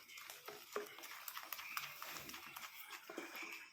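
Herbal hair dye paste being stirred smooth in a bowl, a run of soft scraping and tapping strokes in a steady, close, quiet rhythm with no talk.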